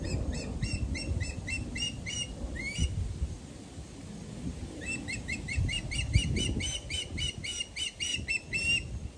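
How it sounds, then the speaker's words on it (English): Osprey calling outdoors: bursts of sharp, high repeated chirping whistles in two runs, fairly loud and close, over a low rumble of wind or background noise. "Oh, there's our osprey again."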